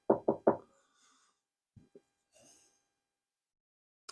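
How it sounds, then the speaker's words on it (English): Three quick, solid knocks on wood, close and loud, followed by a couple of softer taps and a faint breathy exhale, with quiet pauses between. "Let me knock on wood just to make sure."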